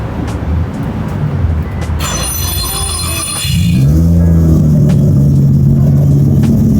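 A truck engine runs at a garage where an air brake canister is being fitted, a loud close rumble that swells midway into a deep steady drone with a brief hiss above it.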